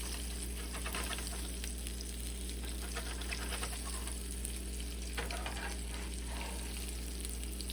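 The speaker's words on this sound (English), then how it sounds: "I think I want to chop them in pan, so chop them up" Chopped taco filling fries in a pan with a constant close sizzle, joined by occasional scrapes and clacks of a utensil breaking it up against the pan.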